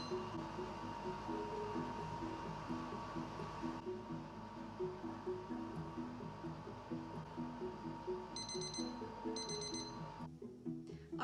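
A kitchen timer alarm during scone baking beeps in a steady repeating pattern for several seconds, fairly quiet against a constant background hum, with no voices.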